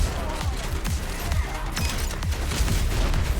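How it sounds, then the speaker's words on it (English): Shotgun firing in the video game DEADLINK, rapid repeated booming blasts about every half second, loud and close amid dense game action. "the shotgun pretty much one-shots everything"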